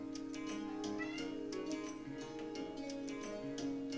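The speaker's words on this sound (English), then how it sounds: "that's the cat" A cat meows repeatedly, close and fairly faint, with steady low hum in the background and no talk over it.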